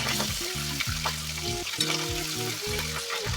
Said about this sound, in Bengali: তো বাকি মাছগুলোকেও এইভাবে তেলের মধ্যে দিয়ে আমি ভেজে নিচ্ছি।